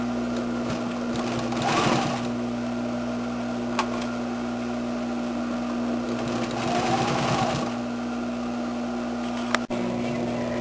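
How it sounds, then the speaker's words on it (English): A sewing machine stitches down a jeans waistline seam in two short whirring bursts, near and steady, with a quiet hum between runs and a brief click near the end. "And we'll begin to stitch it down."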